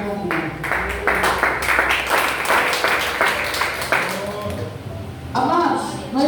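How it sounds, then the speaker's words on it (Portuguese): A church congregation claps along in praise during a worship service, a dense, steady wash of hand claps with voices and singing mixed in, briefly dipping before swelling again at the end. "Exaltar o Senhor com as palmas mais alegres."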